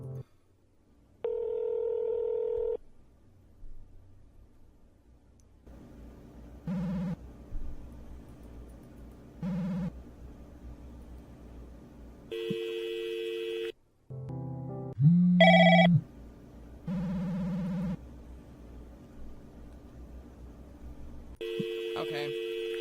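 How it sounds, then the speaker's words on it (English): A phone in a video game dials with a sequence of keypad tones, then rings with repeated electronic ring bursts separated by pauses, clear and close. "I'll try calling again just to see if anything different happens."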